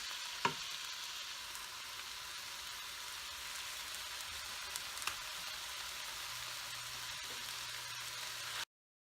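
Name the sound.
organic vegetable broth added to cooking vegetables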